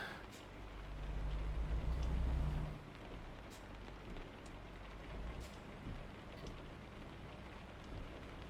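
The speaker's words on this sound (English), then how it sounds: "So now we have rain." Rain in the truck-driving game American Truck Simulator, a steady broadband hiss of rainfall that runs through the whole stretch, heavier with a low rumble near the start, then settling to an even patter.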